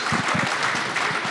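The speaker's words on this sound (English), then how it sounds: "give them a big round of applause for being here" A seated audience at a real estate investing event claps together, a dense, steady patter of many hands filling the room without any voices over it.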